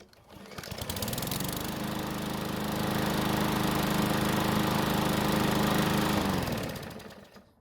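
A Garden Line walk-behind lawn mower, started with a single light pull after a starting fix, runs steadily at a constant engine drone for several seconds before the sound fades away.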